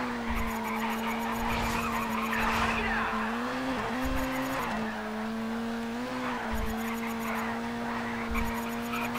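Video-game car drifting in Race Driver GRID, with a steady engine drone that dips and wavers through the slides and repeated tire squeals over it, loud and continuous.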